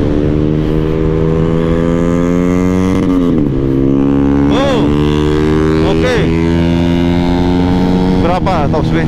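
Honda PCX 160 and Yamaha NMAX 155 scooters accelerating in an 800-meter drag race on a sandy track, engines droning loud and close with rising, shifting pitch sweeps and passing whooshes.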